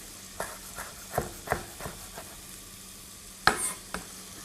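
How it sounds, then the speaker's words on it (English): Curry leaves sizzle in a hot pan with a series of sharp pops and spatters, plus a few clinks of stirring, close by. "I'll add those in, frying with the other ingredients."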